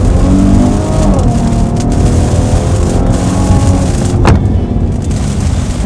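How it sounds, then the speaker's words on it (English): A Maserati Levante SUV in sport mode revs its engine loudly, a deep droning roar with rising pitch and a sharp burst near the end, booming through the cabin. "which when you engage it, oh my gosh, the sound levels just begin to fill the cabin."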